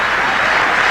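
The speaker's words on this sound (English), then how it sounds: "Let's just dwell on the applause that this young man is going to get" A large crowd at a cricket ground breaks into loud, dense, continuous applause that fills the whole brief moment.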